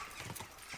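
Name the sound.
horse hooves while riding, video game Kingdom Come Deliverance 2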